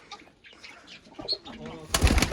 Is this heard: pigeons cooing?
yes